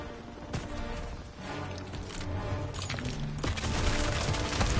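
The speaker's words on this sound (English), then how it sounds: "Get down! Artillery barrage!" Artillery barrage in a World War II battle in Call of Duty WWII: dense, continuous rumbling blasts and crackling impacts that build louder toward the end, with scattered gunfire layered throughout.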